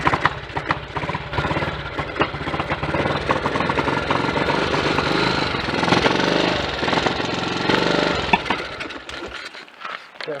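A Triumph Tiger Cub motorcycle engine runs steadily for about ten seconds, a rough, busy mechanical drone close by. It cuts off near the end.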